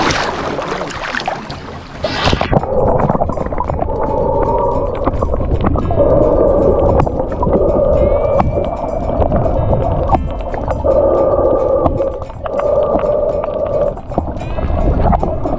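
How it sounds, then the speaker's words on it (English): A boat's engine drones steadily as the hull moves through water near Beqa Lagoon, Fiji, with wind buffeting the microphone and splashing underneath throughout. "So we're on the boat and we're actually moving."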